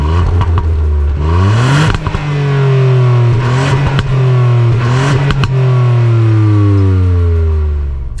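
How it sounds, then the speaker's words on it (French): A 1.5-litre EcoBoost turbo car engine in sport mode with the exhaust valves open revs loudly and up close, rising and falling in several strong pulls with a raspy, throaty exhaust note. No one speaks. "quand on active le mode sport, des clapets s'ouvrent et tout de suite, on entend un petit peu mieux la sonorité du véhicule"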